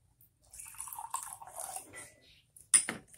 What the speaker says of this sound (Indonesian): Lalu kita campurkan dengan air